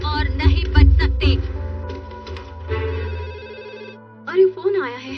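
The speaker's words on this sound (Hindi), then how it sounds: "अरे फोन आया है।" A telephone rings in an animated Doraemon cartoon episode, its repeated electronic trill sounding under and between characters' voices and background music.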